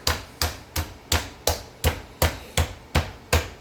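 Pork tenderloin being pounded flat under plastic wrap: ten evenly spaced, solid thuds at a steady rhythm, close and fairly loud, with no talking between the blows.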